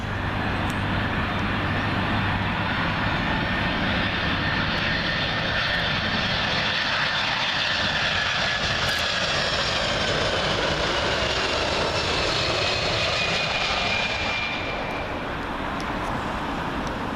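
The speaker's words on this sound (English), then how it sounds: "United 767 in from Newark Liberty" United Boeing 767 from Newark Liberty landing on Heathrow runway 27L, passing low over Myrtle Avenue: a heavy, sustained jet rumble and whine, loud and close throughout, tapering slightly toward the end.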